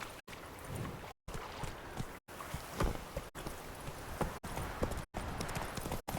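Roach, a horse in The Witcher 3 video game, clip-clops along in a steady, even rhythm of hoofbeats at close range, with brief gaps where the sound drops out.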